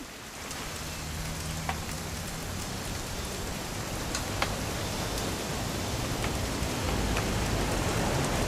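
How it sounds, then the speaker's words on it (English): Rainfall in the video game What Remains of Edith Finch, a constant broadband wash of drops on surfaces with occasional distinct close splats, holding steady and growing slightly heavier toward the end. "It's gonna rain the whole weekend, isn't it?"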